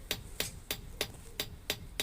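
Blacksmith's hammer flattening hot metal for a campfire cooking tripod, seven crisp, evenly spaced ringing blows about a third of a second apart, close and clear.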